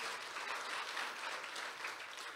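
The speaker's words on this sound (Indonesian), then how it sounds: "Yang percaya boleh berikan tepuk tangan buat Tuhan Yesus." A church congregation at a Sunday worship service claps continuously, dense even applause filling the whole short span without any talk.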